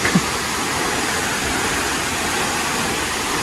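Huai Luang waterfall in Khao Phra Wihan National Park, Thailand, a dense, continuous rushing of falling water heard close and loud, with no talking.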